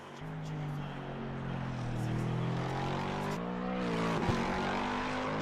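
A damaged race car engine in the Assetto Corsa Competizione racing game at Mount Panorama during an endurance race gives a rough, droning whine that rises and shifts in pitch, loud and continuous throughout.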